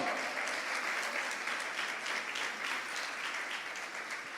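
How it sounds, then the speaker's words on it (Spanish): A church congregation applauds together, a steady dense wash of clapping that holds evenly from start to finish at moderate distance. "Alguien que aplaude el nombre del Señor"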